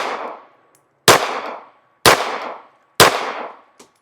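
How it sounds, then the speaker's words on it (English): Pistol shots from a Beretta loaded with Underwood 90 grain +P XTP hollow-point .380 ACP: three sharp, loud, close reports about a second apart, each ringing out, after the decaying tail of an earlier shot. "Let's see how the Underwood 90 grain plus P XTP bullet does out of this gun."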